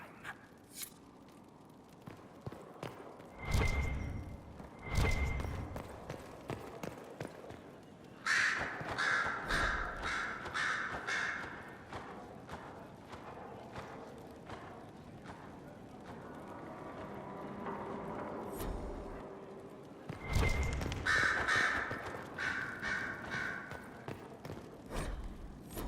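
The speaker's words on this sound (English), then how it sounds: "Sister Liliana will want access to the birds. Get the cages up here" Crows caw in the Skyhold stronghold of Dragon Age: Inquisition, a few harsh calls spaced apart at moderate distance over quiet ambience, with occasional footsteps and thuds.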